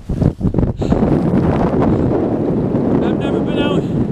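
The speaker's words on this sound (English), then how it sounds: "the wind is just ripping." Strong wind ripping during a whiteout on a frozen lake, heard from inside an ice fishing shack as loud, continuous buffeting roar and gusts, with a voice briefly audible.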